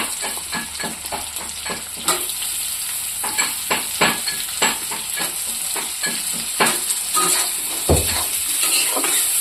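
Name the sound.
potatoes frying and stirred with onions in pan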